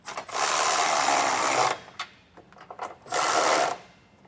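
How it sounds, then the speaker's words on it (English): A ratchet with a 19mm socket tightens trailer hitch bolts on a 2024 GMC truck, giving two loud, sustained bursts of rapid clicking near at hand, with softer scattered clicks and knocks between them. "I can now come back and tighten them down with a 19mm socket."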